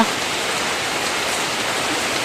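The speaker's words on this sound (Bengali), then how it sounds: "এখন বৃষ্টি হচ্ছে" Steady afternoon rain falls in a dense, even hiss, close and continuous with no voices.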